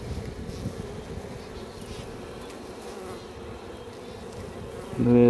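A dense, steady hum of many honey bees buzzing close by at a hive during a spring hive check, continuous throughout with a brief louder rise at the end.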